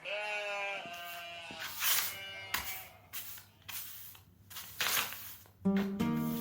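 Sheep bleating repeatedly in a farm setting, a series of wavering, nasal calls that rise and fall, fairly close and clear with short pauses between them and no talking.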